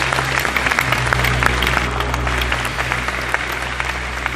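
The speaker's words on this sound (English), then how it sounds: "Give him a big round of applause" A festival crowd at a Doctor Who fan event in a London exhibition hall gives a big round of applause, dense and sustained clapping over a low steady hall hum.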